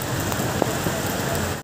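Heavy rain pours down in a steady, dense hiss on surfaces outdoors in the Philippines, with occasional louder drops, continuous and fairly close.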